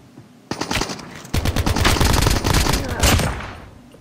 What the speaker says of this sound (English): he shotgunned someone